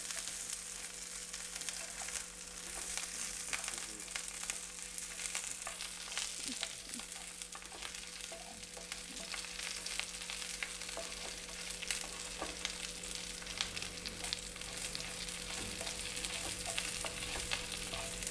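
Onion and green chilli sizzle steadily in a pan for an egg paniyaram gravy, a continuous soft frying hiss with occasional light stirring, no talking.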